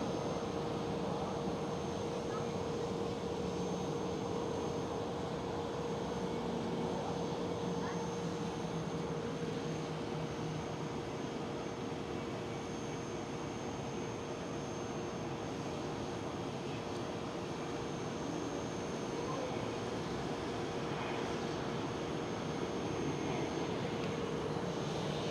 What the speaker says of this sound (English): And right over there Delta Airlines A330neo